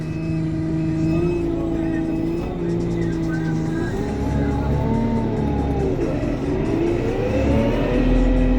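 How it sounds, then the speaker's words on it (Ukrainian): A Lovol P4110 tractor pulling a seed drill through a field on hand throttle, its diesel engine humming steadily near and loud, the pitch rising and falling slightly as it sets off; faint voices may sit underneath. "І все, поїхав. Ручний газ. Обороти виставив, пішов."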